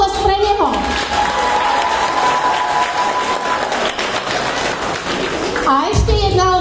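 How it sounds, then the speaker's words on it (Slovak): Audience applause at a live concert by a singer in Hrabušice, a steady wash of clapping from a crowd lasting several seconds, with voices and music-like tones mixed in near the start and end. "Potlesk pre neho!"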